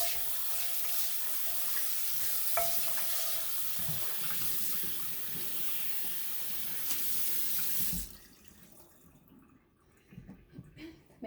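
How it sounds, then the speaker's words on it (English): Tap water runs steadily into a sink as a cast iron pan is rinsed, a loud even rush that cuts off abruptly near the end, followed by faint clinks and handling. "we're gonna rinse it."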